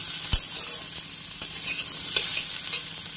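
Vegetables for Bengali shukto sizzle steadily in hot oil in a pan, with occasional scrapes and clacks of a spatula stirring them, close and continuous.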